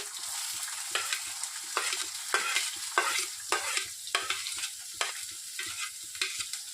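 Chopped onions and curry leaves fry in a pan for a curd lady-finger curry, a soft continuous sizzle punctuated by regular scraping stirs about once a second, close and quiet with no speech.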